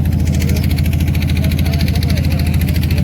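A riverboat motor on a river crossing near Bhuapur, Tangail, Bangladesh runs as a loud, close, steady drone with a fast rhythmic throb and no pauses.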